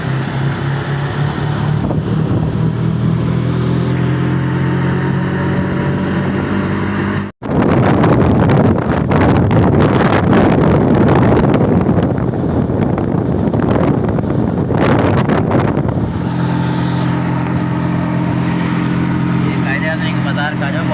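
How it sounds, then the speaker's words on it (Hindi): Riding in an auto rickshaw through Multan, Pakistan, with a steady rumbling engine and heavy roaring wind buffeting the microphone, loud throughout and briefly cutting out once partway through. "अभी हम वापसी जा रहे हैं, रिक्शा में बैठे हैं।"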